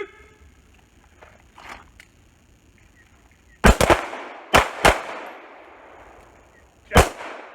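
Pistol shots on a combat pistol shooting course, sharp loud cracks heard as a quick double shot, two more close together and a single later shot, each with a ringing tail, after a quiet stretch of faint movement.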